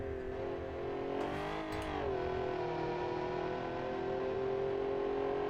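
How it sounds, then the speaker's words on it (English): A V12 engine in a sport luxury car from the BeamNG driving game drones steadily and loudly, its pitch dipping and climbing briefly as the revs shift, then holding an even high note with no voices over it. "It's a V12, it sounds like a V12."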